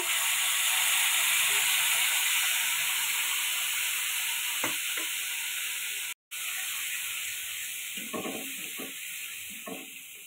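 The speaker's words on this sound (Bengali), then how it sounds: "গোলমরিচ, লং, তেজপাতা হালকা করে একটু নেড়ে চেড়ে নেব।" Black pepper, cloves and bay leaves sizzle in hot oil in a pan, a steady close frying hiss running throughout, broken by a few scraping stirs of a spatula and one brief dropout partway.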